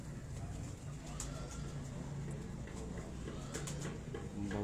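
Pigeons cooing from a rooftop loft, soft repeated low coos layered over a steady background hum, fairly close, with a few brief higher chirps and clicks scattered through.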